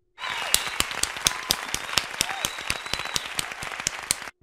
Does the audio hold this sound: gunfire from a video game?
no